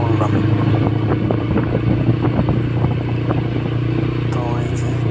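A motorcycle ridden along a rural road, its engine humming steadily with rattles and clatter from the ride, picking up pace, with a voice talking over it.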